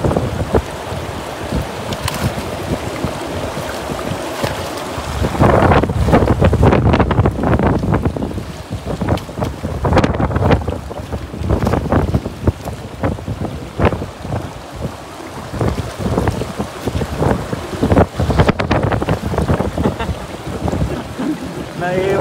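Strong wind gusts during rain at a river where cast-net fishing is underway, a loud buffeting roar hitting the microphone with surging blasts throughout, water and wave wash mixed in and a voice briefly heard.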